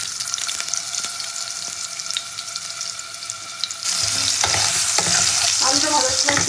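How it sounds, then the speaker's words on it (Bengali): Potatoes fry lightly in the same oil used for fish, a steady broadband sizzle that grows louder and denser partway through, with stirring and clatter, no talk. "তো একই তেলে আলুগুলোকে আমি একটু হালকা করে ভেজে নেবো।"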